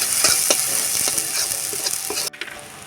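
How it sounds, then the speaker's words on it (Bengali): Spices with turmeric and chili powder fry in a pan, giving a dense, loud sizzle broken by several spoon scrapes and taps before cutting off abruptly near the end. "1 চামচ হলুদ গুঁড়ো, 1 চামচ কালারিং লঙ্কা, দিয়ে আমি এটা ভালো করে ভেজে নিচ্ছি।"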